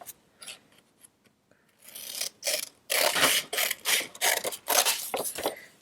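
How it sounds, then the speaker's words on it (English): Scissors snip through paper during a craft session, a few quiet cuts at first, then a run of louder, rhythmic rasping snips close to the listener with no talking. "Gonna cut one more bit here."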